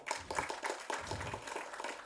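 Audience at a Tamil film audio launch event giving a round of applause, heard faint and distant as an uneven, rhythmic patter of clapping hands.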